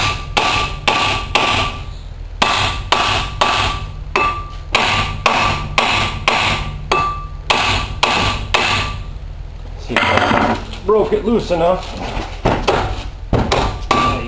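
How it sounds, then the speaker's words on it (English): Repeated hammer blows strike a car's wheel hub to break a stuck wheel bearing loose, loud, sharp, evenly spaced metallic knocks in steady bursts, with a short pause and a brief spoken remark near the end. "You can't even swing a hammer behind it."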